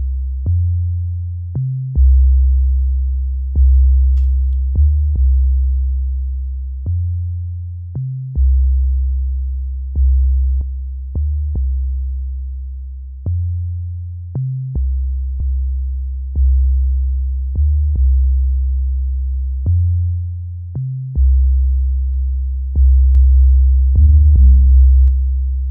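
Deep sustained 808 bass notes from an Ableton trap beat, played in a steady rhythmic pattern with gliding pitch, loud and clean with no other sounds.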